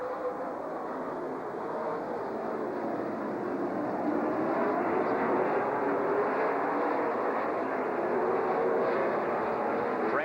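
Late model race cars roaring off at the green flag at Rockford Speedway, a dense, continuous engine drone from the pack that swells slightly partway through, with no talk.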